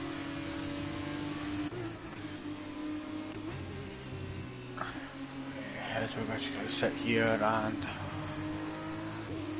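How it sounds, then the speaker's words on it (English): An F2 safety car circling the Spa circuit, its mid-pitched engine humming steadily throughout with a few brief rises in revs, heard beneath a commentator's continuous talk. "watch the safety car go round and round and round"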